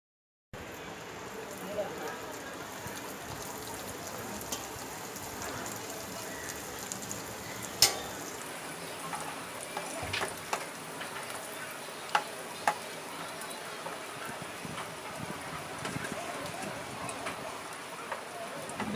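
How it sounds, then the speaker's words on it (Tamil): Bread pieces frying in hot oil for a bread biryani, a steady crackling sizzle with scattered pops carrying on throughout the clip. "இப்போ கட் பண்ணி வச்சுக்கிற பெட்டுங்க எண்ணெயில் போட்டு வறுக்கலாம்"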